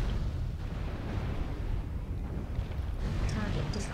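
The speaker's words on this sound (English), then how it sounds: "Airstrike activated." Airstrike explosions in a shooter game rumble and boom in a dense, continuous roar with sharper bursts toward the end, fairly distant and muffled.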